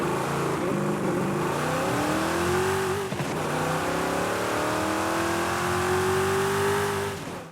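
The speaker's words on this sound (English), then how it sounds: "let's go ahead and take a listen to that 5-litre engine" A Mercedes-Benz 500E's 5-litre engine in Forza Horizon 5 revs steadily, its pitch climbing, dipping briefly, then rising again in a sustained loud drone with no talking.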